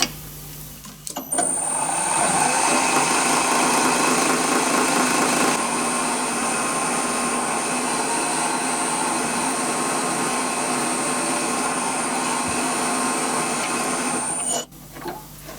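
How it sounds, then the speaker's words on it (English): A drill bores a hole in a metal part clamped in a vise while building a Titan .60 glow plug model engine, a steady high whine that starts abruptly, runs unbroken for about thirteen seconds, then cuts off. "Just got one more hole to drill."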